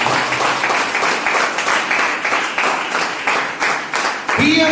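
A church congregation claps together in rhythmic, continuous bursts during worship, steady and fairly loud, with a voice carrying over the clapping.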